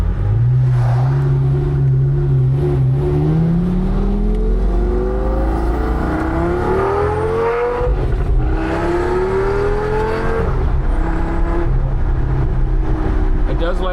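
A 2007 Lamborghini Gallardo with E-gear revs loudly and continuously, its engine note climbing through repeated rising sweeps, dropping back between pulls, close to the listener.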